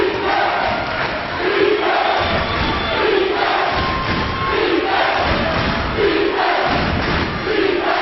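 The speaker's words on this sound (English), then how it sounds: "You can hear this crowd." A college basketball crowd roars continuously, with a packed student section yelling and cheering in loud, pulsing waves and occasional thuds, all heard from courtside without clear talk over it.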